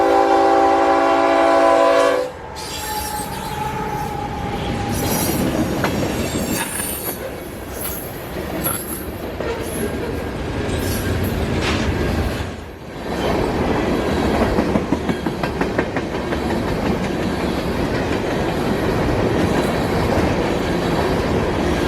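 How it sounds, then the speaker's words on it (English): A northbound ethanol unit freight train rolls past in North Georgia, opening with a loud horn blast, then a long steady rumble of railcars with squealing wheels and clickety-clack of wheels over rail joints. "here's a clip from back on May 7th of the last train that I saw here, which is actually another ethanol train, this one being northbound B820."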